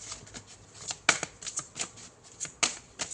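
Tarot cards shuffled by hand in a quiet room, a run of crisp riffling bursts and soft slaps at an uneven rhythm, close and alone with no talking.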